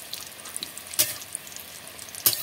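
Fish roe frying slowly in a pan over low heat, a soft, steady sizzle with small crackles and two sharper clicks of a utensil, no voices.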